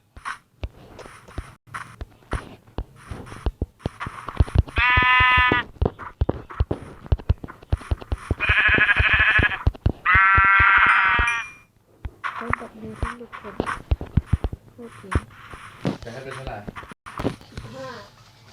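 Sheep in Minecraft PE 0.15.6 give three loud, drawn-out bleats in quick succession. Someone talks over them, with steady game clicks and taps throughout.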